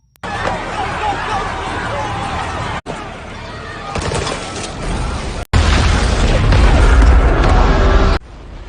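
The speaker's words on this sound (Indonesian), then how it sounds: "tidak sengaja pelurunya mengenai petugas yang sedang mengisi bahan bakar, dan terjadilah ledakan" A film scene at an airport: a fuel-truck explosion booms, followed by loud rumbling and a panicking crowd's chaotic hubbub, cut into several abrupt segments.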